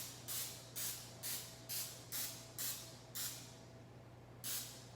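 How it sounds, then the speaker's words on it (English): Cooking spray spritzed into the cups of a donut pan over a sink: eight short, even hissing bursts in a steady rhythm with a longer gap before the last, close and clear over a low hum. "I'm gonna spray the whole pan."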